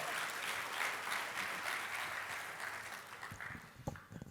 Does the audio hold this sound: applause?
yes